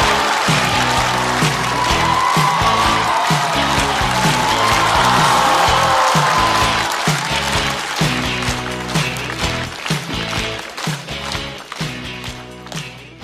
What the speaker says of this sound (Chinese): 掌声欢迎大国手！